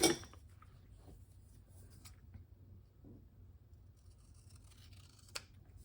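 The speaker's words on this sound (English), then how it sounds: "So let me get my scissors." Quiet snips of scissors cutting paper, several soft irregular cuts close by, with a sharper click near the end.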